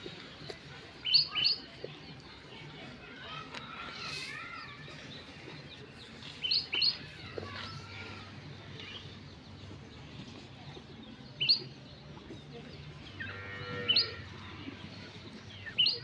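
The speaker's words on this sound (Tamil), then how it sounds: "குருவி தான் சவுண்ட் ஆக்குது கத்துது எங்கன்னு தெரியல மரத்தில் இருக்குது" Sparrows chirp from a tree in short, bright bursts at scattered moments, fairly faint against a steady outdoor background hum, with no talking.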